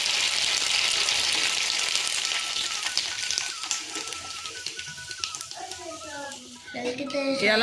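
Food deep frying in oil for a mango sambar meal, a steady close hiss and crackle that fades a little toward the end, while a person talks over it.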